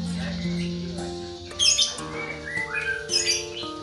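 A recovering orange-headed thrush (anis merah) gives sharp squawks and chirps close by, short bursts over a steady tonal background hum, with a voice speaking in between.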